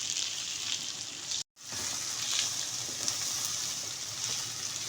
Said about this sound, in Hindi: पहले 10 से 15 मिनट हम खाली भिंडियों को फ्राई करेंगे